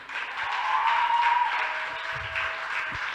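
Audience at a school debate applauding a speaker, a steady wash of clapping from a crowd with a faint voice briefly audible underneath.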